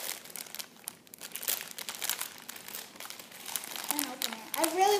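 Plastic packaging for small tsum tsum toy characters crinkles steadily as someone struggles to open it, close and fairly quiet, with faint voices in the background.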